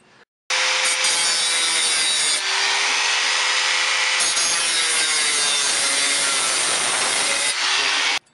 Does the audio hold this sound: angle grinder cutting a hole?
yes